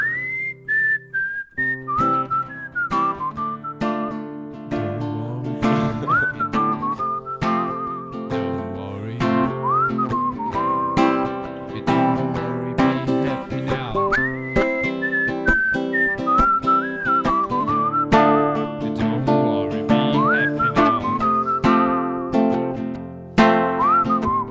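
Melodic whistling carries the tune of a rock song, bright and continuous over a loud full-band backing with drums for the whole stretch.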